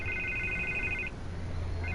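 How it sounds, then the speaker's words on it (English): A telephone rings in a tense city setting: two bursts of a bright electronic ring separated by a short pause, clear and fairly close. "Can't get the phone to stop ringing."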